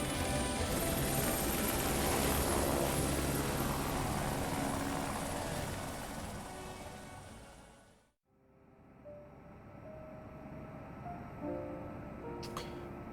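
A helicopter takes off in Return to Shironagasu Island, its loud steady rotor and engine roar holding for several seconds before cutting off abruptly, followed by quieter ambient tones.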